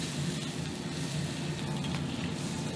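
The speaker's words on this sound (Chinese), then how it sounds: "锅烧热之后加入少许的底油，油温5成热之后下入切好的边角料爆香" Chopped pork trimmings stir-fry in a little hot oil in a heated wok, making a loud, continuous, close sizzle that stays steady the whole time.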